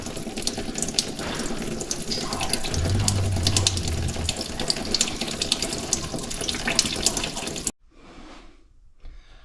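Transmission fluid from a Ford 6R80 transmission on an F-150 pours steadily in a loud, continuous splashing stream, then stops abruptly and gives way to a few separate drips.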